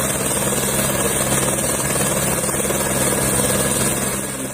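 A helicopter on a Bhojpuri song shoot drones loudly and steadily, its engine and rotor noise filling the whole stretch without pause.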